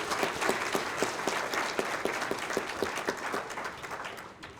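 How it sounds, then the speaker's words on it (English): A crowd at an anniversary opening ceremony in Manitoba gives a round of applause, with loud, full clapping and some distinct rhythmic claps that taper off toward the end. "Let's give them a round of applause."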